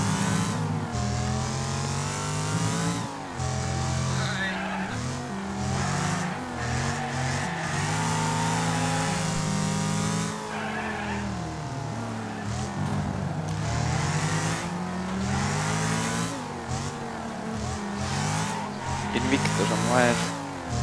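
Race cars roar and rev through gear changes in the demolition racing game Wreckfest, engines rising and falling continuously at close range, with players talking over the racket.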